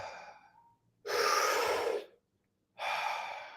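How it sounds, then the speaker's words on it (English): Slow, deep breaths are drawn in and let out through the mouth, close and clear: a fading exhale, then a long breath and another, separated by silent pauses, with no talking. "we'll be taking nice big deep breaths"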